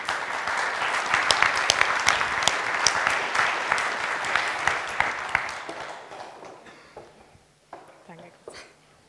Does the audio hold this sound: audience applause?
yes